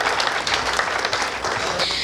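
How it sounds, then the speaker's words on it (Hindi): Steady applause from an audience at a Hindi comedy poetry gathering, a dense continuous wash of many hands clapping that holds at an even level throughout with no break. "आनंद आ रहा है तो जरा तालियां उठाकर"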